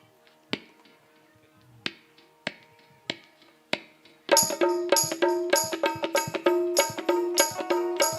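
At a Ram Katha devotional gathering, scattered single claps give way to a crowd clapping together in a steady, brisk rhythm, with sharp, bright, fairly close hand claps that continue without talk.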